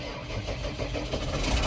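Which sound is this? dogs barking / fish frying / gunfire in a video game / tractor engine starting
tractor engine starting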